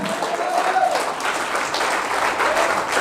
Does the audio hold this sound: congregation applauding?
yes